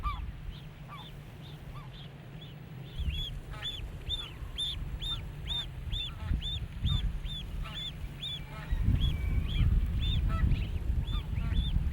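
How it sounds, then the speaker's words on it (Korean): Geese with goslings honk on an Arctic island breeding ground, with a run of repeated nasal calls rising and falling in the middle and softer scattered calls around it, over rumbling wind or surf noise. "기러기들이 새끼들을 데리고 둥지 떠나기를 서두른다."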